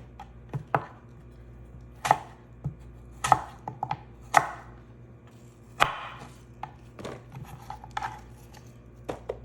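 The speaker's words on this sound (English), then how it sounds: "The thinner you slice them, the faster they will cook." A knife slices through apples on a cutting board, producing a scattered series of sharp, crisp cuts and knocks at irregular intervals, close and fairly quiet against a hushed kitchen background.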